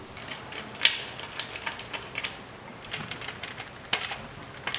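A basic screw being driven in by hand while fitting a mid lower brace on a 2022 BMW X3 M40i, giving sparse small ratcheting clicks and light metallic ticks, close and faint, with no voices.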